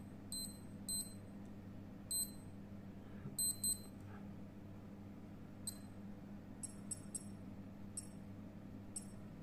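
A digital wristwatch alarm gives faint, high, short electronic beeps in irregular clusters over a low steady hum, with no one speaking.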